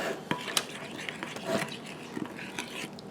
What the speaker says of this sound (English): I'm going to stir this up really good.